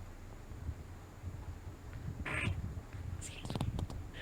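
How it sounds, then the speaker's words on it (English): A person passes gas in two short, raspy bursts, the second a rapid fluttering series that sounds somewhat like a duck's quack, heard close over a quiet room. "I have really bad gas tonight."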